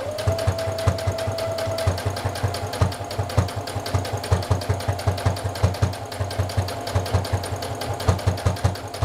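A sewing machine stitching fabric for bra pads, running in a fast, even mechanical rhythm of needle strokes with a low motor hum, close and continuous throughout.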